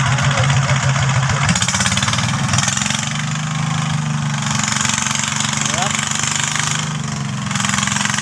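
Powerful car engine running close and loud, a continuous rough throbbing drone with shifts in pitch as it revs, and someone speaking over it.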